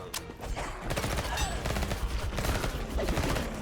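Automatic gunfire rattles in the video game Bloodshed, a dense, continuous burst of rapid shots that stays loud throughout, with a voice present in the mix.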